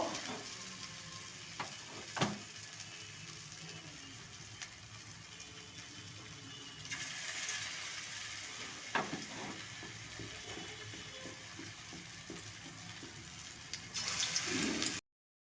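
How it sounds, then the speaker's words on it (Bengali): Round pointed gourd koftas fry in hot oil in a wok, giving a steady, fairly quiet sizzle with a few sharper crackles and pops and brief louder bursts of spattering near the end. "এবার এর মধ্যে আমি পটলগুলো গোল গোল কোফতার আকারে করে ভেজে নেব"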